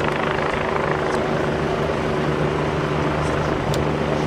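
A Lifeline medical helicopter lands in a coned-off landing zone set up by the fire department at a mock crash scene, a loud, steady rotor drone with a low engine hum that continues unbroken.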